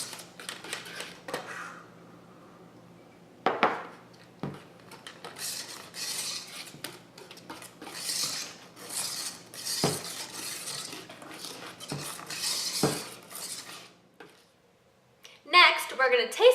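Gluten-free brownie batter with coconut flour being stirred in a bowl, with steady scraping and clinking of a utensil against the bowl through most of the stretch and a few sharper knocks.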